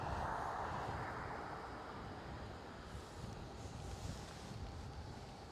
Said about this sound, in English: I bet it's pretty blowy here